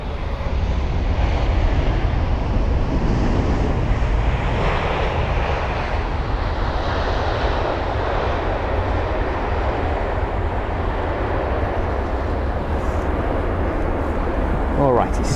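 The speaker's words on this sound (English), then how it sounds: "the Royal Jordanian jet is currently lining up on the runway" A Royal Jordanian jet lines up on Heathrow's runway 27 left for departure, its engines giving a loud, continuous broadband roar with heavy low rumble that holds steady throughout, close and dominant.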